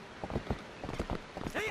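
Hooves of a horse galloping in the video game The Legend of Zelda: Twilight Princess HD, a quick series of close rhythmic thuds, with a voice talking over part of it.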